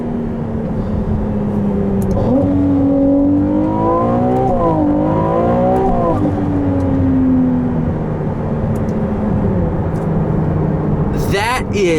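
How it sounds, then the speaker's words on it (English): A 2022 Ferrari 296 GTB engine revs up through rising gear changes, whining higher and dropping as it shifts, loud and close, with excited voices over it. "That is one of the fastest cars I've ever driven."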